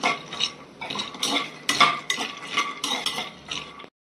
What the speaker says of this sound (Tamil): இப்போ முந்திரி போட்டுக்கலாம்.